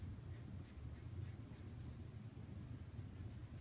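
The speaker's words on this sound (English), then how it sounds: "that's why I'm drawing this out onto tracing paper." Pencil drawing on tracing paper gives a soft, steady scratching, quiet and close, in continuous strokes with faint rhythmic pulses of pressure and no voice.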